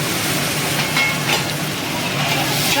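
A quarter kilo of chopped shallots sizzling in hot oil in a pan for mutton curry, a steady loud frying hiss with faint stirring, no talking.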